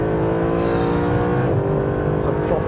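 A Mercedes SLS AMG Black Series engine roars under throttle during a slide, loud and sustained with a rising pitch and a brief tire squeal, close and dominant throughout.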